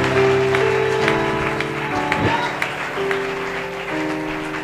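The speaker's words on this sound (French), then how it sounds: "Est-ce que tu peux acclamer pour Jésus?" A church congregation applauds and cheers for Jesus, loud continuous clapping mixed with voices and sustained tones underneath.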